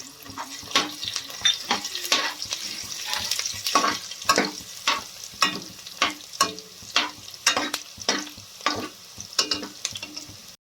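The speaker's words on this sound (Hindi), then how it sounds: "ਹੁਣ ਇਹਨਾਂ ਨੂੰ ਭੁੰਨ ਲਾਂਗੇ ਥੋੜਾ ਜਿਹਾ" Cumin seeds, green chillies, ginger and garlic roast in a pan, and a utensil stirs and scrapes them in a regular rhythm of sharp strokes over a soft, steady sizzle.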